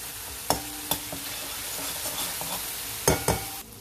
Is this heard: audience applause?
no